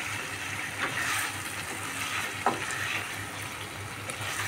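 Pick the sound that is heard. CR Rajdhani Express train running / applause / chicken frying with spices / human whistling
chicken frying with spices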